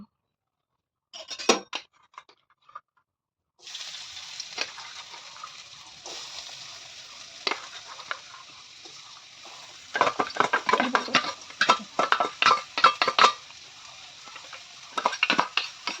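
Onion goes into hot oil for pav bhaji. After a short silence a steady hiss of frying begins and keeps going, broken up by sharp clinks and scrapes of a spoon against the pan.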